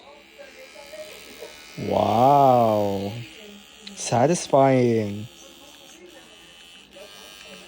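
Oral-B electric toothbrush with a black head buzzing in two close, steady bursts of about a second each, its pitch wobbling as it presses against something, with a person speaking briefly between them.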